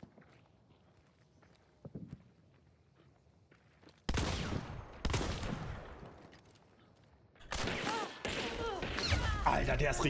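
Gunfire in the video game Hunt: Showdown: after a quiet stretch of footsteps, loud, sharp shots crack and echo in bursts with rumbling tails, and voices talk over the action.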